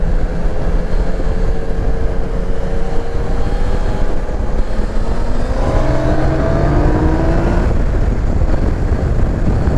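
Yamaha Niken 900 three-wheeled motorcycle cruising in fifth gear at about 2500 rpm, a steady close engine drone with gently rising pitch, wrapped in constant loud wind rush.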